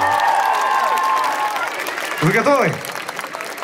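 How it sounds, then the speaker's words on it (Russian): Audience applause welcoming guests at a jazz concert, a loud steady wash of clapping with a voice speaking over it. "встречаем гостей бурными аплодисментами"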